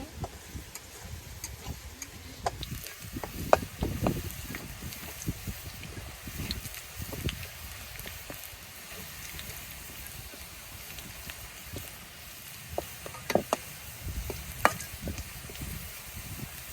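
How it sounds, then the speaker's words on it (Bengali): Onion and garlic frying in a pan, a steady soft sizzle with faint stirring scrapes and occasional ticks, fairly quiet and continuous with no talking. "পেঁয়াজ রসুনটা একটু লাল লাল করে বাইজা নেবো"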